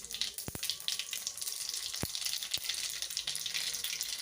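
Cumin and mustard seeds sizzle in hot oil with a bright, continuous hiss and a few sharp popping crackles scattered throughout.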